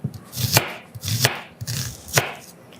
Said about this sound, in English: I'm just rough chopping everything